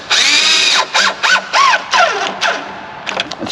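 A power driver tightens a clamp on a hard plastic snorkel being installed on a third-generation Toyota 4Runner, in several close, loud whirring bursts whose pitch rises and falls as the clamp draws down, with a few short ratchety spurts at the end.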